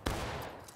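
Musket gunfire in the Civil War video game War of Rights, a brief, dense crackle of rifles going off together as a volley, loud and close for under a second.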